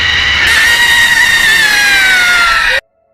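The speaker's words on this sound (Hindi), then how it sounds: "आग की लपटों के बीच एक भयानक चीख गूंजी।" A loud, sustained, terrifying scream rings out amid burning fire flames in a village as a swing is set alight, its pitch sliding slowly downward over nearly three seconds before cutting off abruptly into silence.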